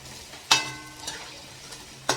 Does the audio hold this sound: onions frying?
yes